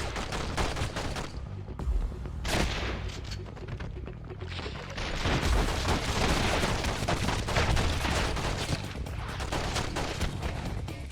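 Rapid gunfire from a PlayStation demo shooter game, with dense overlapping shots and blasts running loudly and continuously throughout, with no pause between bursts.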